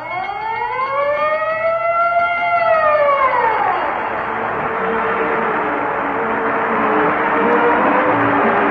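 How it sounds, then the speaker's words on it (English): A loud siren winds up and falls in pitch on an old-time radio broadcast, then fades into a steady, busy wash of sound; no distinct bell stands out. "whenever you hear the siren and bell"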